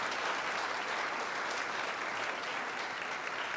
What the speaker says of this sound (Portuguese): Vamos aplaudir esse texto da palavra de Deus